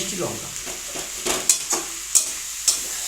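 Chopped tomato and chilli stir-fry in a hot pan, a continuous sizzle broken by several sharp spatula scrapes and knocks, close and fairly loud, without speech.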